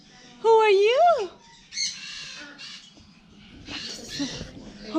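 A pet cockatoo gives one loud, harsh squawk that rises and falls, followed by quieter rustling and a voice speaking nearby.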